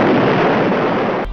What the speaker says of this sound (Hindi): तभी शिरोई तोप में आग लगा देता है।